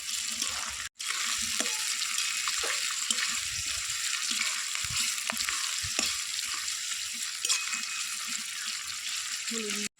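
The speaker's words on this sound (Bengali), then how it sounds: "এবার আমি এর মধ্যে দিয়ে দেবো চিংড়ি মাছগুলোকে। চিংড়ি মাছগুলোকেও খুব ভালো করে লাল লাল করে ভেজে নিতে হবে।" Prawns and onions sizzle steadily in a hot pan, a dense continuous frying hiss with scattered stirring clicks and scrapes, close and fairly loud throughout, with a brief dropout near the start.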